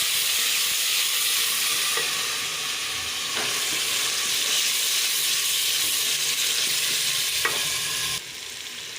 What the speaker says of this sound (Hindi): अब हम अदरक लहसुन की भुनाई करेंगे